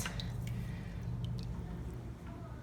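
Homemade liquid laundry detergent pours steadily from a larger container into smaller buckets, a continuous close liquid rush with faint drips and splashes on top.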